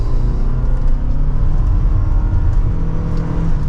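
A 2024 Toyota RAV4 Hybrid XSE with its 4-cylinder engine in sport mode accelerates hard at full throttle, giving a loud, steady engine drone and road rumble heard from inside the cabin, with no talking.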